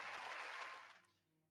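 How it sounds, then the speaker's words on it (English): A short burst of applause from a crowd, dense clapping that fades away toward the end. "There is some applause."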